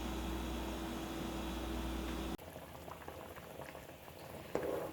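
A pot of creamy chicken noodle soup bubbling at a steady boil, dense continuous gurgling and popping, close up, with a brief clatter near the end.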